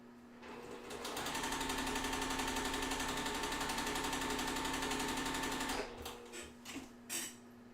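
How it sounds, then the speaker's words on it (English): A sewing machine runs fast and steady as it stitches quilt half square triangles, a close continuous whirring rattle lasting several seconds before stopping, followed by light handling clicks. "We're going to sew 1/4 inch on either side, so we end up with 2 modified half square triangles at the same time."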